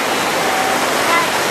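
Cold stream water flowing by the bank, a loud, steady rushing wash heard up close without a break.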